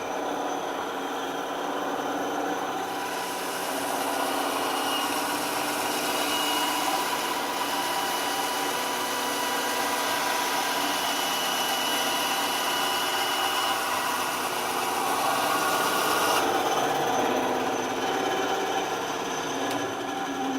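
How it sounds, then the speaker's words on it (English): Bandsaw running steadily while cutting off the back of the heel counter on an Easyboot Fury hoof boot, a loud continuous whining drone with a slight shift partway through, no talk. "I'm going to flip on my bandsaw. And I'm just going to cut off the back here."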